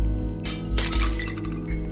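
Glass breaking in the video game Stray, a few bright crashing bursts with scattered tinkling shards over a steady low game-music bed.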